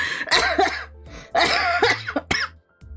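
A person coughs and clears their throat repeatedly in harsh, raspy bursts, close to the mic, with strained vocal sounds between the coughs.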